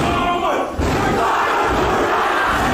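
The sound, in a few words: large crowd shouting a battle cry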